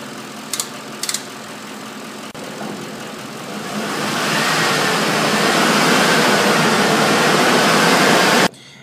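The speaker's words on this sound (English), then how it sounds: "we're going to run the engine for a while till it gets to operating temperature" A Ford vehicle's engine runs steadily while warming to operating temperature after a coolant flush, its noise gradually growing fuller and louder, a couple of faint clicks early on, then cutting off abruptly at the end.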